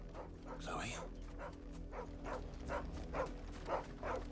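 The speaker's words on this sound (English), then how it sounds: "Dog barking." A dog in Final Fantasy XVI gives a series of short barks and yips, roughly evenly spaced over a low background hum, moderately close.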